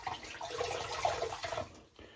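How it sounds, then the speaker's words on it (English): Cold water splashed up from a bowl onto a face during a rinse after a shave with a brass razor, a steady close wet sloshing and dripping that fades near the end. "do a cold water rinse here real quick"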